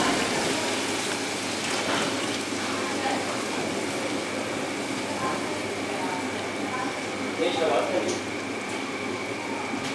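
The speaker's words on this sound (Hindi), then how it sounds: "अब इसके अंदर शीरा डालते हैं।" Sugar syrup poured into a large batch of semolina halwa, a continuous rushing, gushing pour with a steady background rumble, loud and close throughout.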